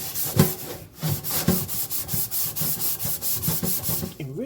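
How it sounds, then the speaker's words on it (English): Someone scrubs an aluminum pot with a Brillo pad in about a dozen brisk, evenly spaced back-and-forth rasping strokes, close and fairly loud, with no talking. "Stop running my mouth and get the scrubbing."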